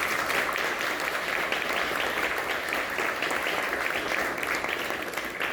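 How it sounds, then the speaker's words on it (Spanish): An audience at a book launch on South American camelids claps steadily and fairly loudly, a dense, even wash of applause that holds throughout without a break. "por favor, fuertes aplausos."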